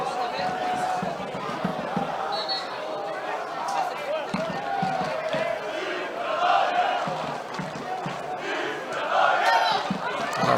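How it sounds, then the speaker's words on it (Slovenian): Away supporters at a Slovenian third-division football match chant steadily from the stands, a dense crowd roar with rhythmic pulses throughout, while a commentator talks over it. "Jasno skandiranje sedaj strani gostujočih navijačev ni predaje"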